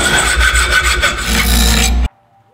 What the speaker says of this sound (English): I have to cut every bolt.